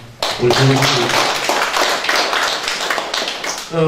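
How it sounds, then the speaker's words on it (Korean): A crowd claps steadily for several seconds in a dense, continuous wash of applause, with a few voices mixed in. "박수 한번 쳐주시기 바랍니다"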